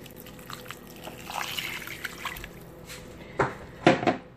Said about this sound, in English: So now I am actually going to add a few cups of water